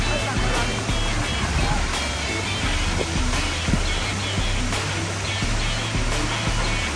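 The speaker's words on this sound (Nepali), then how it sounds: "Finally, we are here at Fungfunge Waterfall." Fungfunge Waterfall in Taplejung, Nepal, pours with a constant, close, full-bodied roar of rushing water that stays even and unbroken throughout, with a faint low rumble underneath.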